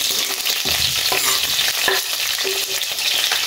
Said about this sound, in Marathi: मातशें फ्राय करून घेता, चड करून ना